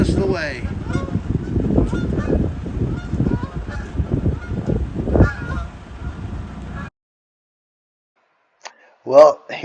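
A flock of geese honks in a steady stream of overlapping calls beside a canal near Audlem, then falls silent before one last loud, close honk.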